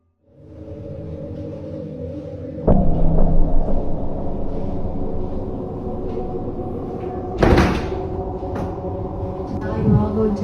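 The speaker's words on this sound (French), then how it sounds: "La porte se ferme brusquement" A door slams shut with a heavy thud in a house, a sudden loud bang after several seconds of low rumbling room noise, followed by quieter knocks and movement.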